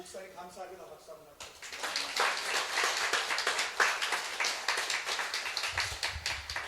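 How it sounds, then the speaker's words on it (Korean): A church congregation breaks into applause for the pastor after a sung passage ends, a steady crowd of clapping hands lasting several seconds and fairly loud in the room. "목사님 감사합니다. 박수 한번."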